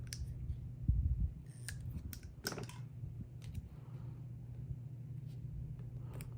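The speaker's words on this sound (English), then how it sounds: "And I'm going to cut it." Scissors cut paper in a quiet room, giving a few soft, close snips and rustles over a low background hum. The sounds are faint and irregular, and no one speaks.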